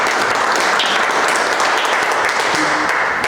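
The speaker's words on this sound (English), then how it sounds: "And let's give another big round of applause to Brandon." A Rotary Club meeting audience applauding a speaker after a talk on mental health, a dense, steady burst of clapping that stays loud throughout, with faint voices underneath.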